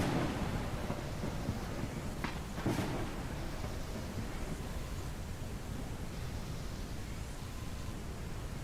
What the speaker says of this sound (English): That storm is crazy out there.